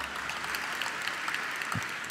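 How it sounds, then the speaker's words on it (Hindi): Audience in Indore claps steadily through a religious discourse, a faint, continuous patter of many hands without a clear peak or break. "इंदौर वाले बहुत समझदार है ना? देखो कितनी बढ़िया ताली बजा रहे"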